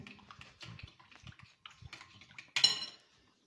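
Ground meat for çöp şiş skewers being hand-mixed with chili flakes and black pepper, giving soft, irregular squelching and dabbing close by, ending in a brighter clatter of a bowl or utensil.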